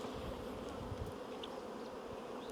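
Honeybees flying around an apiary on a warm day, a steady soft buzzing hum that stays even and fairly faint throughout, with no talking.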